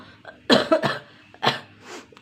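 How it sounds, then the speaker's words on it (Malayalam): A woman with a gallstone coughs several times close by, a few quick rough bursts spread over two seconds with soft breathing between them. "ചുമയുണ്ട് കേട്ടോ"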